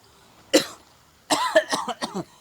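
One short cough, then after a pause a rough burst of several coughs in quick succession, close and fairly clear.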